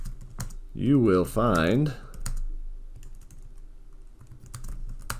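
Rapid clicks from typing on a computer keyboard, close and fairly quiet, heard after a short spoken phrase and continuing in scattered bursts.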